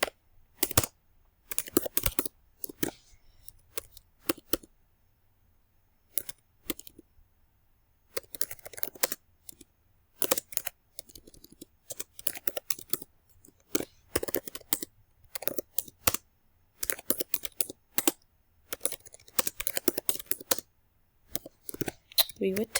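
Bursts of rapid keystrokes on a computer keyboard typing a SQL query in Access, separated by short pauses, with close, crisp clicks and occasional spoken remarks.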